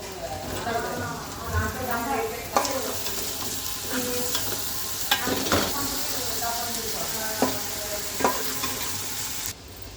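Ginger garlic paste and turmeric fry with mushrooms in a pan, giving a steady sizzle broken by stirring clatter, while a voice talks over it.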